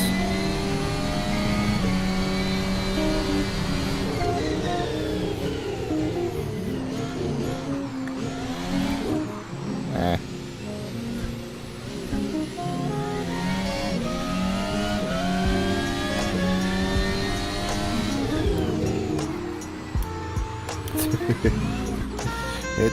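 A formula car engine in the Assetto Corsa video game, played in VR, revs and wails through a long drift, its pitch rising and falling repeatedly as the throttle is worked. The sound is loud and continuous, with brief dips and a rough stutter near the end.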